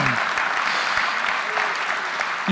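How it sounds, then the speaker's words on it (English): Steady audience applause from a conference crowd, dense and sustained clapping at moderate loudness, with a brief voice at the very end. "Give him a round of applause, please"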